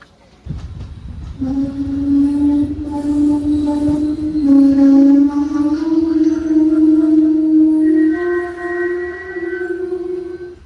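A passenger train in a sleeper-class coach rolls slowly, loud and close, with a sustained tonal whine that rises slightly in pitch over a low rumble.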